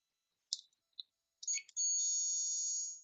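Multimeter continuity check while diagnosing a 2002 Yamaha WR250F motorcycle's wiring: a couple of faint short chirps from probe contact, then a steady high-pitched beep holding for over a second, quiet and close with no talking.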